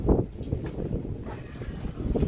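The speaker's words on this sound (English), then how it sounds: "it's windy." Wind blowing hard across the microphone outdoors near water while fishing, a continuous buffeting rumble that rises and falls, with no speech.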